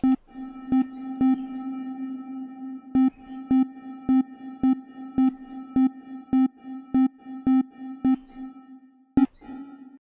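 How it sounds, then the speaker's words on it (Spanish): A steady synth tone with a delay effect set to two steps pulses in a repeating rhythm of clicky, evenly spaced echoes, fairly loud and alone, before fading near the end. "Por ejemplo, vamos a poner el delay de 2 steps."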